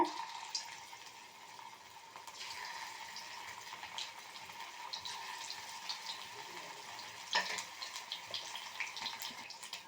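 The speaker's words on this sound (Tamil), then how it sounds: "இப்போ ஒரு பேன் வச்சுட்டு அதில் எண்ணெய் சூடு ஏறினதும் அந்த ஃபிஷ் போட்டு பொறிச்சிக்கலாம்" Anchovy fish 65 pieces fry in hot oil in a pan, a steady close hiss with light crackle running the whole time, occasional sharper pops rising above it, with no talk.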